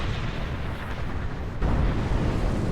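A weapon blast in a Star Trek episode comes through as a dense, loud, rumbling burst that swells suddenly halfway through and holds steady, with no voices.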